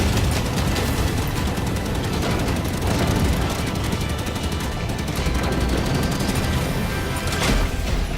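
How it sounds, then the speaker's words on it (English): Relentless loud machine gun fire mixed with rocket blasts in Halo 5: Guardians, a continuous rapid rattle with heavy booms throughout. "Fire your rockets and machine gun, and then bob and weave and reload"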